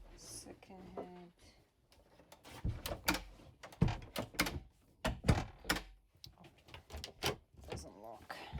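Cabin doors to the head aboard a boat in the Ionian Islands, Greece, knocking and clattering in a string of sharp wooden clunks and latches at close range, mixed with people talking nearby.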